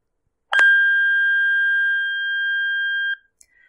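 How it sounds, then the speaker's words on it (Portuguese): A steady 1600 Hz pure sine tone sounds alone, clean and constant for about two and a half seconds before cutting off abruptly. "Vou colocar só mais uma, de 1600 Hz"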